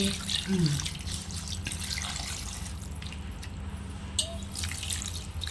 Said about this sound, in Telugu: సరిపడినన్ని నీళ్ళు అయితే పోసుకున్నాను